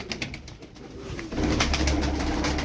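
Tumbler pigeons cooing close by, soft low throaty calls repeating, with some rustling and background noise.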